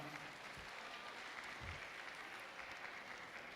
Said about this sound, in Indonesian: Boleh tepuk tangan untuk Matlaul Anwar.